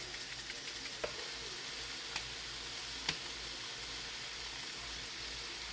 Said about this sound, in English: I'm just going to let this cook here in the frying pan until that chicken gets nice and golden